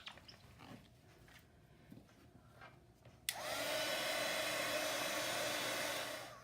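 After a few seconds of quiet rustling, a hair dryer switches on abruptly and blows a loud, steady whirring roar while drying a paper junk journal tag, then begins to fade near the end.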